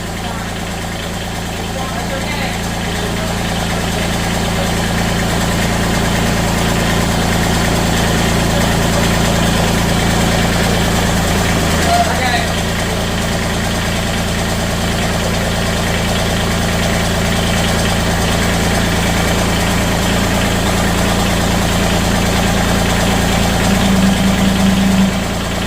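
A Massey Ferguson GC1715 compact tractor engine idles steadily up close after a hydraulic hose repair, a continuous low rumbling drone with constant vibration that holds evenly throughout.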